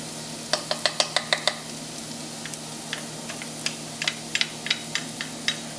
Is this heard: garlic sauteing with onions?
yes